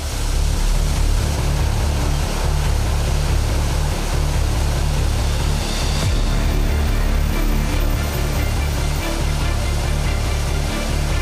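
The flooded Beas river rushes past Old Manali in a dense, continuous roar of fast water, loud and close, steady for the whole stretch with no voices over it.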